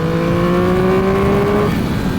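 A 2023 Triumph Speed Triple 1200 RS three-cylinder motorcycle engine revs loud and close, its pitch climbing steadily under throttle, then easing into a brief lower tone near the end, with no one talking.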